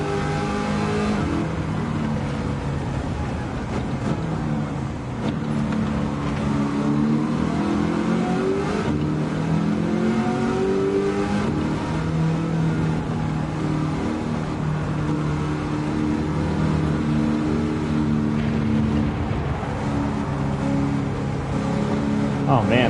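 A Ford Mustang Mach 1 fitted with a Coyote V8 races in Gran Turismo 7, its engine roaring continuously as it revs up and down through gear changes while someone talks over it.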